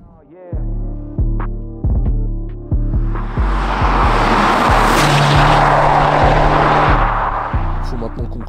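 A Mercedes SL 43 AMG accelerates hard along mountain roads, its engine rising through the gears with several sharp upshifts, a loud, close, throbbing drone that swells and then eases off.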